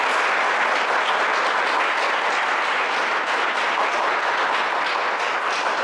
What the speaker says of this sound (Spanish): El aplauso es para vosotros.